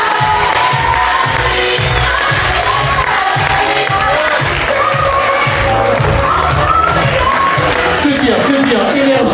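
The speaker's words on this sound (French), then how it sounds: "Mesdames et messieurs, on peut l'applaudir bien fort." Festive crowd at an outdoor camping holiday show cheers and whoops loudly, with shouting voices and some clapping running steadily throughout, backed by pounding music.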